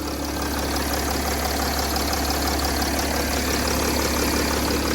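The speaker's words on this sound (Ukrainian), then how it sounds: "Двигун працює взагалі чистенько" A Mercedes-Benz ML 320 CDI diesel engine with 218,000 km idles steadily and evenly, a continuous low rumble with a faint rhythmic knock, close by and alone for the whole stretch.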